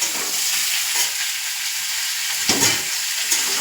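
Fish being fried and stirred in a pan at home, rohu pieces for a Bengali meal: a steady close sizzle with scraping stir strokes, a few louder spatters, no talking.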